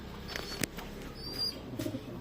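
Pigeons coo softly and intermittently at close range among light rustling and a few wing flaps, with no speech.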